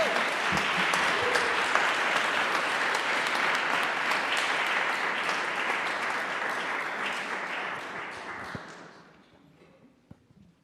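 A conference audience applauds steadily for several seconds, a dense wash of clapping that holds loud and even before thinning out and fading to a few scattered claps at the end.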